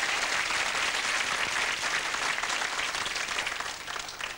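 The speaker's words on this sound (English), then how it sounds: "Give her a big clap for coming up here and helping me" An outdoor beach audience at a 1988 juggling show claps for a volunteer, a fairly distant, quieter patter of many hands that stays steady before tapering off near the end.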